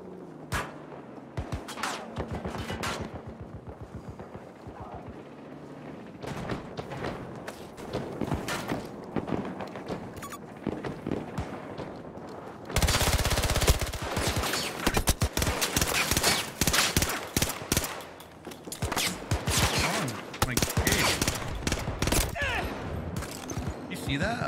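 Gunfire in the video game Battlefield 2042, with dense bursts of shots and sharp rapid cracks throughout, growing louder and thicker in the second half.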